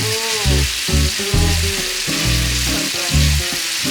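Marinated beef frying in oil in a pan: a bright, hissing sizzle runs throughout, with a rhythmic, tonal backing underneath and no speech.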